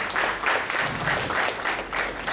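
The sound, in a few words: audience applause at a ceremony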